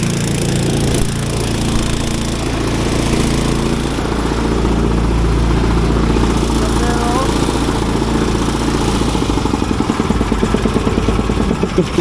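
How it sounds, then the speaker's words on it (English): Small air compressor running continuously while blowing out residential irrigation lines, a loud steady engine-like drone with rattling pulses that grow more pronounced toward the end. "I kill the compressor so we don't deadhead the pipe"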